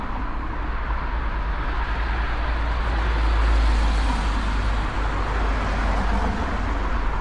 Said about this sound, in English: Quite noisy here with cars